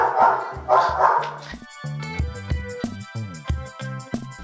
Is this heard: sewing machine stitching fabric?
no